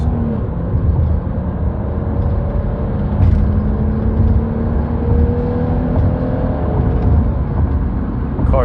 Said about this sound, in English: The car definitely has some good pickup on it.